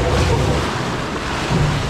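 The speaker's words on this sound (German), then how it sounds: "Und diese Dinosaurier spritzen eigentlich noch Wasser raus." Water rushes and splashes loudly and continuously around a raft on the Dino Splash rafting ride at Holiday Park, with a heavy wind-like roar and no talking.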